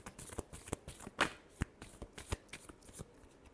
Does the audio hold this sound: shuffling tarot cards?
yes